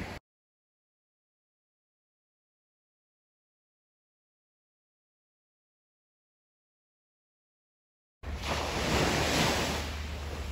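Ocean surf washing onto a beach on the Sea of Cortez in Mexico at night, a steady broadband rush that enters after long silence and carries on loud and close with wind noise on the microphone.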